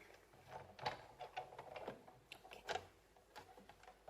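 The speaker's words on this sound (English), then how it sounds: "This has been very well used, this Sizzix machine, as you can see." A well-worn Sizzix die-cutting machine presses a metal sheet through its rollers, giving faint, uneven clicks and ticks in a quiet room with no talking.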